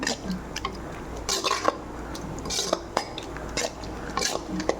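A spoon stirring turmeric into chana dal in a metal pot, heard as repeated clinks and scrapes against the pot's sides with soft wet squishes between them, close and fairly loud.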